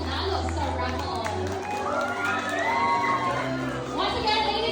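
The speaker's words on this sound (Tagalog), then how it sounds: "Let us give them a round of applause." A crowd at a 25th wedding anniversary celebration cheers and whoops for the couple, with children shouting and excited voices over faint clapping, loud and continuous throughout.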